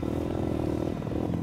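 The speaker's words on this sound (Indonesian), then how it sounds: "Motor trail merupakan hasil modifikasi sepeda motor untuk medan yang bukan aspal, alias off-road." Trail motorcycle, a dirt bike modified for off-road use, running steadily on sandy ground with a continuous buzzing engine drone and light clatter, close and loud throughout.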